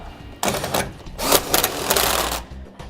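Anti-sway bar nuts and hardware on a 2012 Winnebago are tightened with a power ratchet in two or three short, rapid rattling bursts close by.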